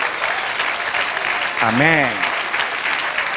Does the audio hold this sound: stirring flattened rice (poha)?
no